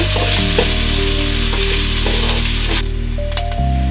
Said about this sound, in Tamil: வெங்காயத்தை சேர்த்திட்டு வெங்காயம் கொஞ்சம் லைட்டாக வணங்குற அளவுக்கு வதக்கி விடுங்க